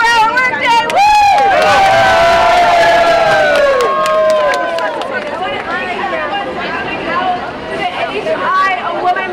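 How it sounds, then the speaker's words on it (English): A bustling rally crowd at an event to end the 24-hour workday cheers and shouts loudly, with whoops and voices rising together, then settles into a dense babble of chatter. "We have a bustling crowd"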